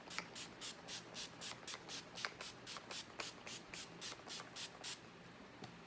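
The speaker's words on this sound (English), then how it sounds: "I'm going to go in with my finishing spray, and I'm going to spray my face really good." Finishing spray is pumped onto a face in a rapid series of about fifteen short, crisp hissing bursts, evenly spaced and close, with no talk during them.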